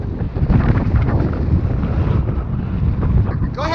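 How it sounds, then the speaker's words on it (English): Strong wind buffets outdoors at Pikeview Reservoir, a loud, continuous, rumbling roar of gusts across the microphone with no clear voices. "you can tell by Joe's flag how much the wind is blowing"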